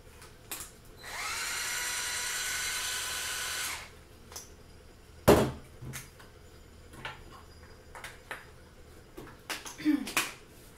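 A Black + Decker Kitchen Wand with its milk frother attachment runs with a steady high whir for about three seconds, followed by clicks, taps and handling noises in a quiet room.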